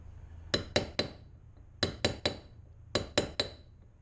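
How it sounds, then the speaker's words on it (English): Three quick bursts of three sharp metallic hammer taps drive a pin into the loose blade tower socket bore of a Cub Cadet mower, ringing clearly and close with short pauses between groups. "I'm just going to pin the socket that it goes in"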